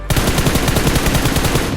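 Automatic rifle gunfire in BGMI, a battle royale mobile game, rattles out as one loud, rapid burst of evenly spaced shots that lasts the whole stretch, close and alone.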